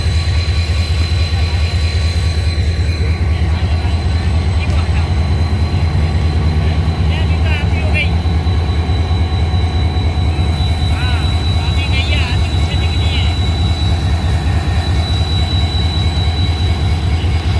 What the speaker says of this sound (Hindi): तो हमारी ट्रेन भी बस अभी रवाना होगी।